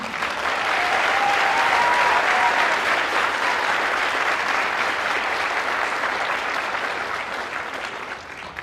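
Sustained audience applause at a National Honor Society induction ceremony, dense and steady throughout and fading slightly near the end, with a faint tone drifting through the clapping.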